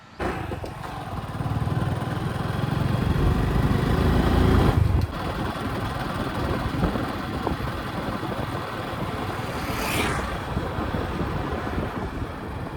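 A small vehicle on a rough dirt hill road near a farm runs with a loud buzzing engine and wind buffeting for about five seconds, then fades into a quieter, uneven rumble with no talk.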